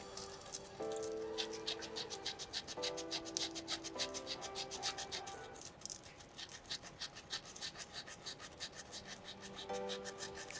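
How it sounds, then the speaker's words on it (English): A small soapstone butterfly carving is hand-sanded with a steady back-and-forth rubbing rasp, quiet and close, repeating in quick even strokes with faint background tones. "You can sand in any direction that works for you."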